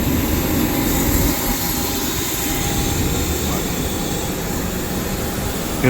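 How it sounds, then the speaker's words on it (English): Aircraft jet engine runs at LAX airport, a loud, steady broadband roar and whine filling the whole stretch without letting up. "Listen to the engine."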